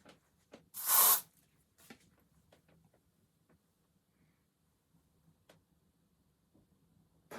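One short burst of Nivea Sensitive Protect Quick Dry aerosol deodorant, a sharp close hiss lasting about half a second, followed by quiet faint ticks and handling noises.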